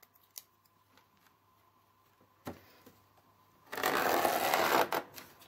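A utility knife slices through anti-varroa wire mesh for a beehive, with a few faint ticks and clicks before a loud, rasping cut lasting about a second.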